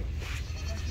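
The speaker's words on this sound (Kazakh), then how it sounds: "Мына жерде үлкен қой жатыр" A sheep at a livestock market gives a short bleat over a steady murmur of market background noise, fairly close and moderately loud.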